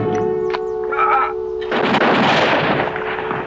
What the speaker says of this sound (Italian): Erano spari?